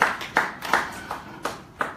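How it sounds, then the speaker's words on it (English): A small group claps in a steady rhythm of sharp, close handclaps, about two to three per second, with no voices over it. "Please put your hands together for Abiola."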